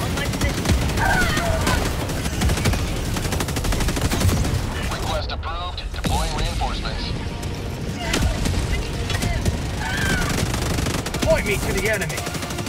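Mortar fire and rapid gunfire crackle steadily through a video game battle, dense and continuous with a brief dip midway, while voices talk over it.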